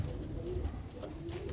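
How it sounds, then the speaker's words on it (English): A Birmingham Roller pigeon coos softly and steadily, a low murmuring call repeating through a short stretch with no talking. "This is a 2022 pigeon."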